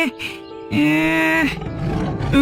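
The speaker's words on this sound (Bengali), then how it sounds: "বাঘ, বাঁচাও, ওগো কি কোথায় আছো বাঘ?" A deep animal roar, like a big cat, rises and holds for about a second, with another growl following; loud and close.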